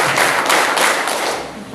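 Schoolchildren in a group clap together four times on command, giving four quick, loud, evenly spaced bursts of massed clapping that fade at the end.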